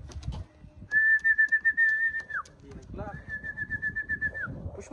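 Racing pigeons at the loft on arrival, soft cooing and wing flutters close by, with two long steady whistle tones sounding over them and a person talking nearby.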